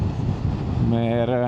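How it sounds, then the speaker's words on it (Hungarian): Strong wind buffets the microphone on a road in the Pamir mountains near Ak-Baital Pass, a loud, constant roar. A voice joins over the wind partway through. "nagyon fúj a szél"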